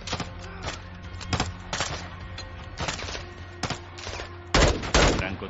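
Gunfire in Call of Duty: Modern Warfare 2 cracks out in sharp single shots and short bursts, irregularly spaced and fairly loud, ending in a heavier close volley, with no talk.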